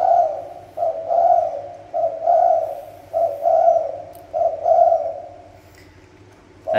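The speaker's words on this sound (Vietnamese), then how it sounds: "Đây là con chim mồi các bạn, mà nó lên khách nha các bạn. Giờ thấy người là nó gù gáy" Spotted dove kept as a decoy bird, cooing in four close, loud, evenly spaced rhythmic phrases of soft hollow notes, then falling quiet, with no talking.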